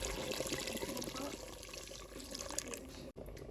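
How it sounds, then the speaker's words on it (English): Hot water pours steadily from a blender into a cooking pot while making birria, a continuous splashing rush that breaks off briefly near the end. "after adding hot water into the blender that I use, I like to pour it in the pot"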